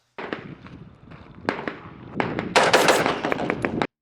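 Rifle gunshots at an outdoor shooting range, fired with no muzzle device, crack out in a rapid irregular string of sharp blasts, closely spaced and loud toward the end, with no talking.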